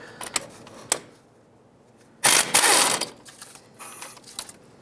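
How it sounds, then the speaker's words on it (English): A wrench works the brake caliper bolts on a 2003-2009 Toyota 4Runner: a few sharp metallic clicks, then a louder burst of ratcheting and scraping about a second long, close by with no talk. "With a 17mm, I'm going to remove this bolt and this one here."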